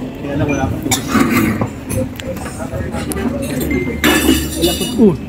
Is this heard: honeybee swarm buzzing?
no